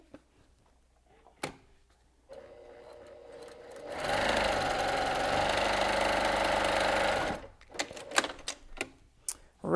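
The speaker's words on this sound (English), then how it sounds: "So let's head over to the sewing machine." A sewing machine stitches straight lines across a fabric zipper pouch with interfacing, a fast mechanical whirring run of about four seconds, preceded and followed by quiet handling clicks and fabric rustling.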